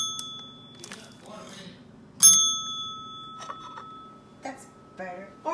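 A small bell is struck twice, a bright ringing ding with a lingering tone, followed by quieter clinks and a voice speaking softly nearby.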